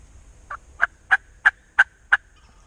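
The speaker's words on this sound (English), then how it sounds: "See if we can get him to gobble again." Wild turkey gobbler in spring woods gobbling in a series of six sharp, evenly spaced calls, fairly close and clear over a quiet background.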